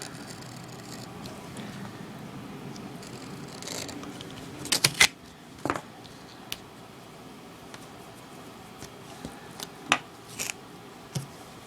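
Duct tape being cut with scissors on a cutting board, a few sharp snips and crackles clustered together, then scattered quieter clicks and handling sounds against a hushed room.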